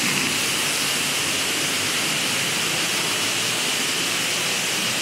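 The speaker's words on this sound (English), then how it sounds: "How about a tunnel under a waterfall?" Steady, full roar of a waterfall pouring over a walkway tunnel at a theme park, continuous broadband rush with no breaks, close and loud, with no voices.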